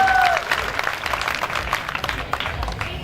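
A seated audience at a Hindi comic poetry gathering claps in a brief, dense burst of applause that fades slightly over three seconds.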